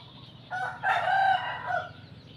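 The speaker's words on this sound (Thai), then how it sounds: "ฟังเสียงไก่ขันนะ" A rooster crows once in the morning open air, a strong drawn-out call rising and falling over about a second and a half against a faint background of other birds.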